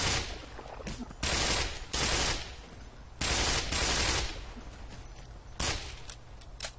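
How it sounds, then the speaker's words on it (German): Automatic weapon fire from the video game Black Mesa rattles in several loud bursts, sustained volleys broken by short gaps, with no speech over them. "Oh, ein Schuss natürlich."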